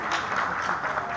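Applause from a theatre audience at the Arts Council in Karachi, honouring a senior director after a stage play. It is a short, steady, dense wash of clapping at moderate loudness, with no one speaking over it.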